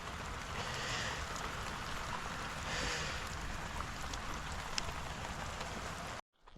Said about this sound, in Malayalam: അപ്പോൾ ചെറുതായിട്ട് മഴയൊക്കെ പൊടിക്കുന്നുണ്ട്.